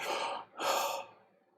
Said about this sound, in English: Take a quick breath here.